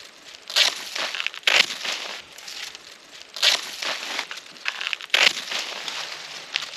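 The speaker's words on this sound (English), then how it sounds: "The first thing we're going to do is just cut all of these stalks off." Canna lily stalks being cut off freshly dug tubers: repeated crunchy, crinkly snips and tearing bursts of fibrous plant stems, close and fairly loud, in an uneven rhythm with brief pauses between cuts.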